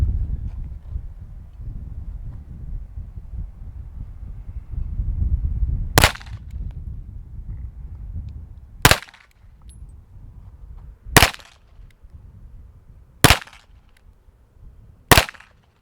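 Five sharp, loud gunshots from an S&W M&P 2.0 pistol fired at a target on a range, spaced a couple of seconds apart after a stretch of low rumbling background noise.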